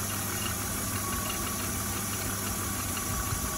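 The engine of a BMW E36 idles steadily while a speed flush runs through the cooling system, making a constant, even hum at moderate distance with no talking.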